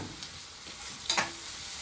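Onions frying in a pan for a home-cooked pre-dawn Ramadan meal: a steady, quiet sizzle under a faint background hum, with a brief louder hiss and scrape from stirring near the end, no talking.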